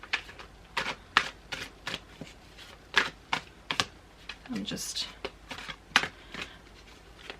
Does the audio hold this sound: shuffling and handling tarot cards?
yes